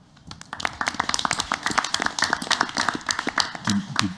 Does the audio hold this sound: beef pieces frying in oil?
no